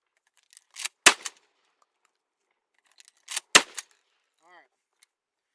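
Shells being loaded into a pump-action shotgun: two bursts of sharp metallic clicks and clacks about two and a half seconds apart, fairly close, with a faint trailing squeak and no talk.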